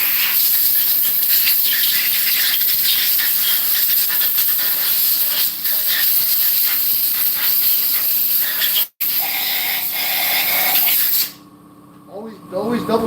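Steady loud hissing whine of drilling out aluminum cylinder heads for 1/2 inch head bolts, continuous and close, with a brief break before the tool stops near the end.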